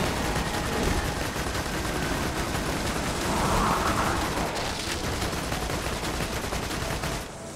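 Constant dense gunfire in Borderlands 2, loud and unbroken for several seconds, with overlapping shots and no clear pauses.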